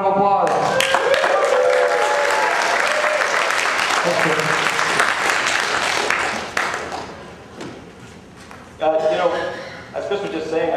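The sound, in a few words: audience applause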